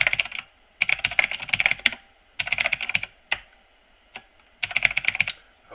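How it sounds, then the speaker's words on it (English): Rapid clattering keystrokes on a computer keyboard entering an email and password, in several short bursts separated by brief pauses and a few isolated key taps, close and clear with no talking. "So I'm going to go ahead and just type that in right now."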